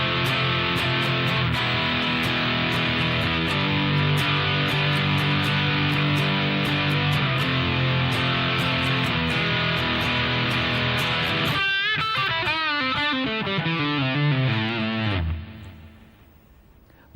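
A heavily distorted electric guitar plays a chord-based bridge, loud and sustained, ending in a sliding, swooping dive before the sound fades out.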